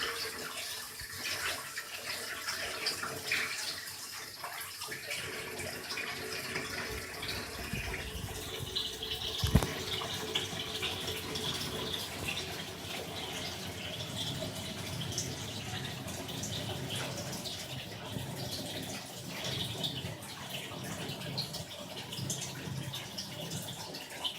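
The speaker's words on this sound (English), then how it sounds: "Fill the water up and fill the sink up with water." Steady rushing tap water pours continuously into a partially blocked sink, a broad hiss with small splashes and a faint clunk midway.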